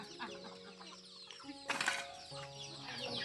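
Chickens cluck softly in a village courtyard at dusk, giving short, low calls near and far against quiet background noise, with a brief flutter in the middle.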